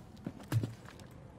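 Footsteps from the video game Rainbow Six Siege, a few distinct hard steps clopping at an uneven pace, moderately close, with a heavier thud near the middle and no talk over them.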